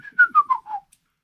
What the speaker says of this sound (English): Can I snap and whistle?